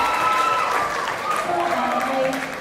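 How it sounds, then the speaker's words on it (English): An audience at a school awards presentation applauds in a steady, full wash of clapping lasting the whole stretch, with voices and a few sustained tones sounding over it. "you should give yourself another round of applause"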